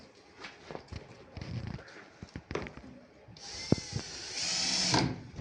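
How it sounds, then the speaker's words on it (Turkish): A power drill drives screws into the front of a rooster and chicken cage, with short bursts of motor whine between knocks and handling clatter, ending in a longer close whirring run. "ön tarafına ikişer adet vida atalım"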